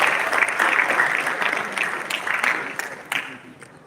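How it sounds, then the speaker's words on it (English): An audience at a DevFest tech conference event bursts into sustained applause, dense clapping from many hands filling the room and gradually thinning toward the end. "Please a round of applause"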